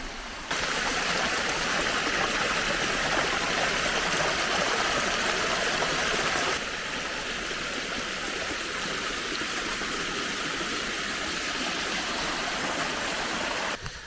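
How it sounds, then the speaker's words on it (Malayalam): Steady rushing and splashing of a small waterfall feeding a stream, close and continuous, with a slight drop in loudness partway through. "ഇപ്പോൾ തന്നെ അത്യാവശ്യം ചെറിയ ചോലകൾ കാര്യങ്ങളൊക്കെ വരുന്നുണ്ട് ചെറിയ വെള്ളച്ചാട്ടം കേട്ടോ"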